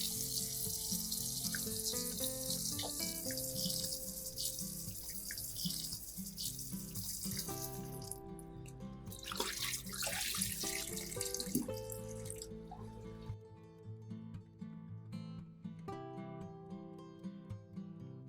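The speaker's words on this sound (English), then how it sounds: "First, I will wash the tomatoes." Tomatoes are rinsed under a running kitchen tap, a steady splashing flow of water into a sink with shifting tones as the fruit moves under the stream, then the water stops near the end.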